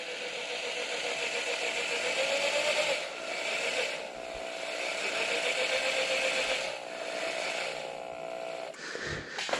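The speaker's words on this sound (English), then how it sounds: "pushing away from the vise and pull the drill toward me, and we're going to twist this thing up" A power drill twists wire clamped in a vise to form a ring, a steady whirring motor hum that dips briefly in pitch a couple of times before stopping near the end, close and alone.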